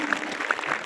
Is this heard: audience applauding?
yes